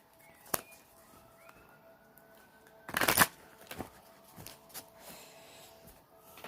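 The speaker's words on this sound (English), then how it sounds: "I'll shuffle a couple more times here and see what comes up" A deck of tarot cards is shuffled by hand at close range, with soft riffling and tapping and one loud burst of cards cascading together midway.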